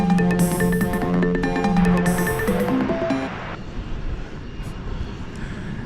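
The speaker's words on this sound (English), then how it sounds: "Got a bunch of planes lining up to take off." Airplane engines hum and whine as planes line up for takeoff at Dallas/Fort Worth Airport at night, a tonal drone that fades into a lower rumble, with no one speaking.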